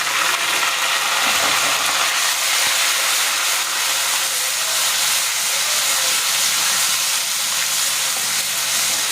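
Garlic ginger paste sizzling hard in oil with browned onions in a pan, a loud, steady frying hiss that continues throughout without talk.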